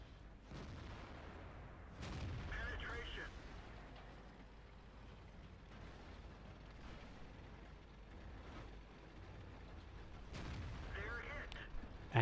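Tank cannon fire in the World of Tanks video game from the T-54's 100mm gun, two heavy booms spaced several seconds apart with rumbling decay, a voice talking over the game audio.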